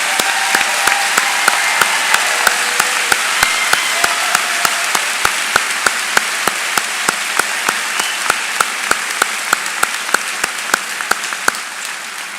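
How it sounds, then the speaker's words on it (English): Sustained crowd applause at a university commencement ceremony, many hands clapping steadily, loud and continuous for the whole stretch, with a few sharper claps standing out. "please stand for a round of applause"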